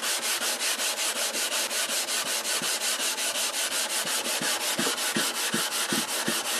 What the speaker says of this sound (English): I can tell I've sanded out quite a bit of the scratches.